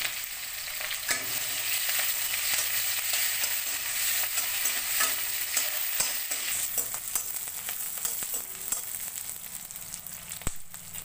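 Onions fry and get stirred in a pan while a Sambalpuri okra and tomato masala curry is cooked. A steady bright sizzle runs throughout, with scattered scraping clicks from the stirring and no speech.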